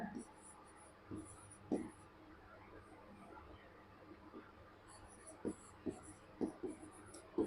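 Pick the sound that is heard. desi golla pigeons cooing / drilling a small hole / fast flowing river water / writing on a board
writing on a board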